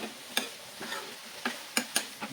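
Brinjal frying in a pan with a soft sizzle, broken by several sharp scraping clicks as it is stirred, spaced irregularly and fairly quiet.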